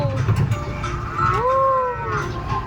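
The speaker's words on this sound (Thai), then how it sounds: "อันนี้เขาเรียกว่าควายมูร่านะครับ" A Murrah buffalo on a small farm lets out a single long, rising-and-falling moo, close and clear over steady low background noise.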